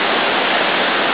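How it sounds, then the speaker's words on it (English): Floodwater rushing like a river over Highway 36 during the Lyons flood, a loud, steady, dense roar of churning water with no pauses. "And flowing onto Highway 36, which is now a river."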